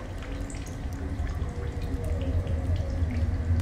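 Water trickling and dripping as a character fills up in a video game, a soft steady run of small liquid splashes over a low background hum.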